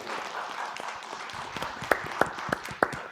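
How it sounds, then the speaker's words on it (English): A single person's hand claps ring out sharply in a talk-event room, four or five evenly spaced claps rising above a noisy crowd-like murmur. "I'm going to applaud that first."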